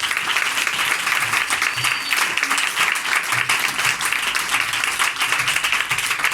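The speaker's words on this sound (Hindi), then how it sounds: "जोरदार तालियों के साथ।" A church congregation claps loudly and continuously as a pastor is garlanded and honored, a full, close roar of many hands without a break.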